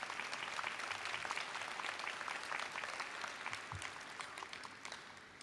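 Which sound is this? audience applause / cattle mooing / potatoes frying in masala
audience applause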